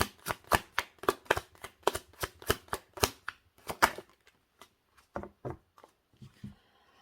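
Tarot cards shuffled by hand to draw an advice card, a brisk run of crisp riffling snaps at a steady rhythm, then a few slower, softer card taps near and alone.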